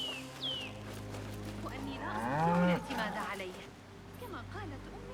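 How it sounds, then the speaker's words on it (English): A cow in the video game Assassin's Creed Mirage lets out a long, low moo with a second bellow following, set against a steady background hum. "Cows making noises."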